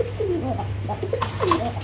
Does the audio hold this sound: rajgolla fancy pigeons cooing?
yes